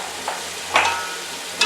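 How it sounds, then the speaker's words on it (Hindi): Chicken and shallow-fried potatoes are stirred through frying masala for potato chicken palao. There is a low, steady sizzle close by with a few short stirring scrapes, and no one speaks. "तो अब मैं इसमें ऐड कर दूंगी आलू, ये भी मैंने शैलो फ्राई किए थे।"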